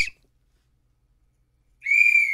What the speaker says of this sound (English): Can I get one more whistle?